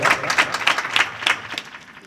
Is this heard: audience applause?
yes